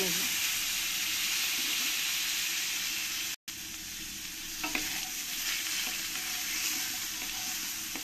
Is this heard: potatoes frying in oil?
yes